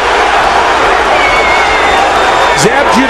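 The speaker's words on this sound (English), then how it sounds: "The crowd urging Spinks on." A boxing crowd at the Zab Judah vs Cory Spinks fight roars steadily, cheering Spinks on in a dense, loud wall of noise, with a brief voice rising near the end.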